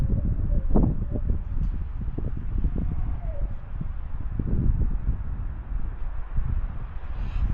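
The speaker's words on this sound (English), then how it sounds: "Keep hearing stuff, not just the wind noise" Wind blows steadily through a forest at a campsite, a constant broadband rush with gusty swells and some rustling, close and fairly loud throughout.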